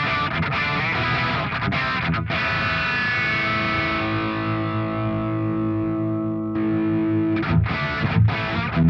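An electric guitar plays through a Revv Generator 100R amplifier with a Line 6 Helix-style G3 processor in the effects loop. Strummed distorted chords ring out and sustain into a long decaying note, then more choppy strums follow.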